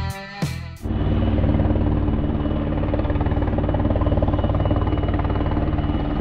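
A helicopter flies over the Tatra mountains, its steady, loud rotor thrum and engine drone filling the scene after a brief sharp gust or wind burst at the start.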